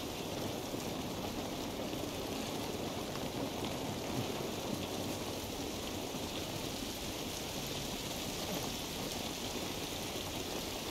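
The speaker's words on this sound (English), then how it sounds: "This rain ain't gonna do us any good." Steady, dense rainfall in the video game The Last of Us, a constant broadband hiss with a faint low rumble that stays even and unbroken throughout, with no voices.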